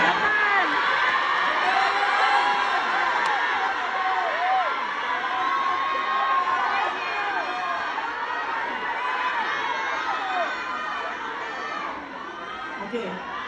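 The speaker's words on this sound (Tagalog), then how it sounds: "Natagal tayo sa sigawan ninyo, sandali lang." A large audience at a speech by the Vice President in Sumida, Tokyo, shouts and cheers continuously. The mass of voices stays loud and dense throughout, with scattered whoops and chanting rising above the general roar.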